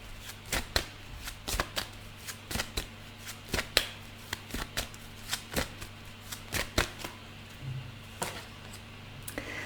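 A deck of tea leaf oracle cards being shuffled by hand, with crisp close riffling snaps coming in a quick, irregular series over a low steady hum, and no talking.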